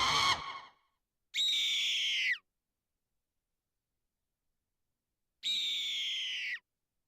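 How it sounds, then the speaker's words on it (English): Hawk calls: a brief noisy burst, then two separate piercing, descending screeches about four seconds apart, loud and isolated with silence between. "That's right, it's a hawk."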